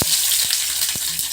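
Onion sizzles in hot oil with popped mustard seeds, a steady bright frying hiss running throughout with a few soft knocks, close and fairly loud.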